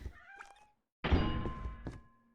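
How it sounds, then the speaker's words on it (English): A cat meows faintly a couple of times, then a louder thunk and knock cut in, all under quiet indoor room noise during a casual chat stream. "I hear a cat."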